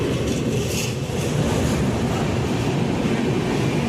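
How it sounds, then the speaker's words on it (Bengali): The Shatabdi Express passenger train rolls into Malda Town station with a steady, heavy rumble and rattling wheels close by. The noise is continuous and loud, with no voices. "দেখতে পাচ্ছেন শতাব্দী এক্সপ্রেস ঢুকে গেল"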